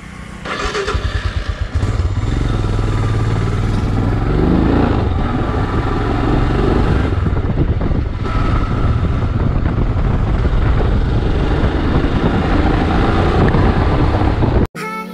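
A Royal Enfield Himalayan motorcycle rides out on a short city ride, its engine a loud, steady drone close by for the whole stretch, with a brief cut at the end.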